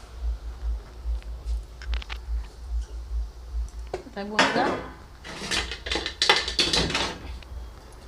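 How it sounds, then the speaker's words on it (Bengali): Chopped tomatoes are tipped into a cooking pan of fish curry with cashews, setting off a burst of sizzling and clattering utensil scrapes over several seconds, after a quieter stretch of low, steady kitchen hum. "এই যে কাটা টমেটোগুলো এগুলো আমি দিয়ে দিচ্ছি"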